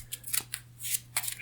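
Papery, riffling bursts of a card deck being shuffled for the board game Auztralia, several quick flurries close by over a low steady hum, with no talking.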